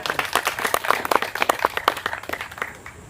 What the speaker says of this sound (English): We get another round of applause.